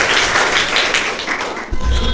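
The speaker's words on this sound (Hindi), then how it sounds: "इनके लिए जोरदार तालियां होनी चाहिए।" A school quiz audience at Sohan Lal Inter College applauds a student with sustained, close, fairly loud clapping that runs through the whole moment and thumps slightly at the end.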